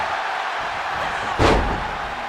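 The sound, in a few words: scoop slam in WWE 2K26 video game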